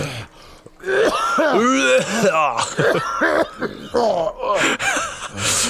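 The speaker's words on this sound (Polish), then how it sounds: "Czemu tak zabawnie kaszle?" A character in the horror video game Visage coughs and groans in strained, wet, throaty bursts with gasping breaths between them, close and loud.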